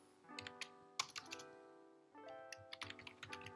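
Code being typed on a computer keyboard in a code editor, a close, quiet run of quick clicky keystrokes with a brief pause midway, no voice.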